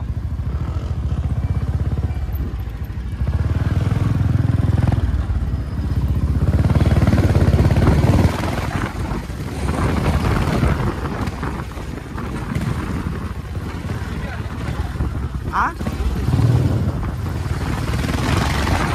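A motorcycle carrying riders at a school sports meet: a continuous engine drone overlaid with heavy wind buffeting that swells and eases while riding, and no talk.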